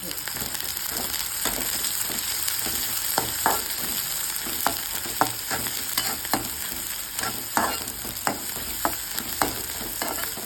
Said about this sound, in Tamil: நல்லா வதங்க வேணாம், கொஞ்சம் வதங்கினா போதும்.